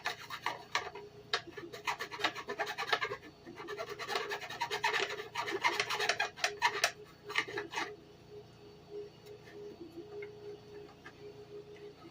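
Hand filing with a chainsaw sharpening file to take burrs off a part, a quick run of close, raspy back-and-forth strokes that stops partway, leaving quieter handling noise.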